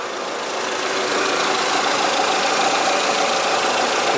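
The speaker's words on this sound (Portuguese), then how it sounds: "nosso Megane Grand Tour aqui funcionando já" A 2012 Renault Mégane Grand Tour with a 1.6 16v engine idles steadily after a wiring harness replacement, a continuous close engine hum with no pauses over the whole stretch.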